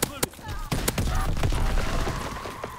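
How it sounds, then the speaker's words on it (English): Call of Duty gunfire crackles in sharp, loud bursts, several close cracks early on, then a denser rumble of shots and blasts with voices talking over the din. "Grenades!"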